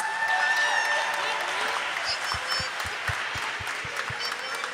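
Applause from a school audience for the winning grade 3L team at an academic bowl, a steady wash of clapping with a few sharp individual claps and faint voices beneath.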